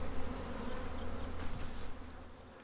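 Honey bees buzz densely around nucs being moved into full-size hive equipment, a close, continuous swarm drone that holds steady before easing slightly near the end.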